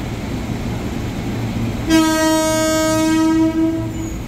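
A commuter electric train sounds one long, loud, steady horn blast arriving at Manggarai station in Jakarta, with the hum of rail traffic and station ambience before and after it.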